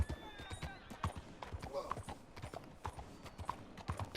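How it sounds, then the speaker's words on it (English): Horse hooves clip-clop at a steady trotting rhythm through Red Dead Redemption 2 game audio, with voices talking over them. "Caballo loco."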